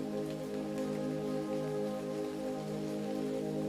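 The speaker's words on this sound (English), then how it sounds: "Heavy raindrops thunder against the fabric of the umbrella." Heavy rain drums steadily on umbrella fabric outdoors on a dark, windy morning, a dense, continuous patter held close overhead with no voices.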